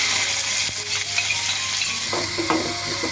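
Mustard seeds, cumin, curry leaves and ginger-garlic paste sizzle steadily in hot oil for Mumbai vada pav, a dense continuous crackle with a few stirring scrapes near the end.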